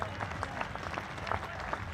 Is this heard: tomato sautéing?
no